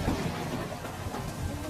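Heavy rain pours steadily on a road, a dense, even wash of noise with a faint low rumble beneath, continuous and unbroken throughout.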